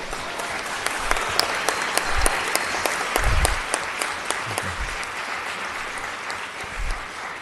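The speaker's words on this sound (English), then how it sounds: "We can clap it up for our fabulous Congresswoman." Audience applause for a congresswoman at an Oakland mayor's State of the City address, steady clapping from a large crowd lasting several seconds at moderate distance, with no talk over it.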